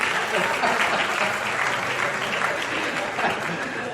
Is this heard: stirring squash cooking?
no